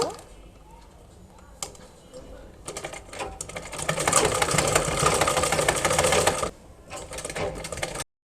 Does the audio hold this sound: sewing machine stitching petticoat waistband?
yes